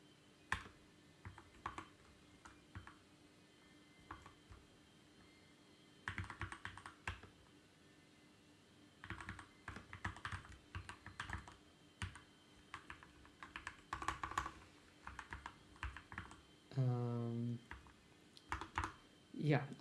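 Typing on a rubber dome computer keyboard comes in soft, muffled bursts of quick key presses separated by pauses, with a person speaking briefly near the end.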